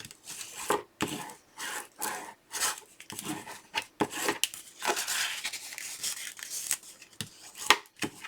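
Creased score lines on scrapbook paper for a Graphic 45 album being folded and burnished, heard as short repeated rubbing and scraping strokes broken by brief pauses, close and fairly quiet, with no talking.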